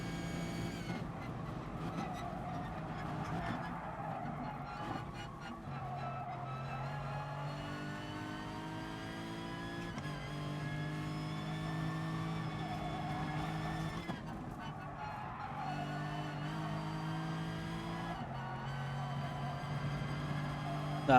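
A race car laps a track in GT Sport on worn tyres, its engine droning loud and close throughout, with the pitch climbing and dropping through repeated gear changes and throttle lifts.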